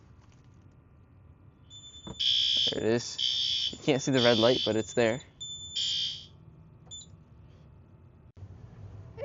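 A fire alarm system re-alarms after a pull station test, sounding loud, steady electronic tones in bursts for about four seconds while someone talks over them in a quiet room.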